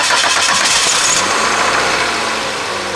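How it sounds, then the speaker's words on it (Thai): A car engine cranks and catches with a sputtering start after an oil change, then settles into a steady, close idle rumble. "ให้เราลองสตาร์ทเครื่องนะครับ"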